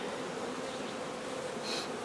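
Honey bees buzz steadily at a beehive, a dense, continuous close-up drone with no voices.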